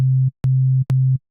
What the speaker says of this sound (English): it just sounds like a basic sine wave